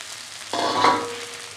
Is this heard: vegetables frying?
yes